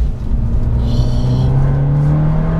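A Ford Fiesta fitted with a WRC-style kit revs up as the driver shifts into second gear for a corner: a steady, close engine drone whose pitch climbs smoothly over a couple of seconds, heard from inside the car.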